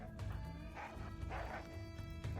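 Bone dogs in the RimWorld video game, a quick run of faint yipping barks in short rhythmic bursts with a whimpering edge, set over quiet game background sound.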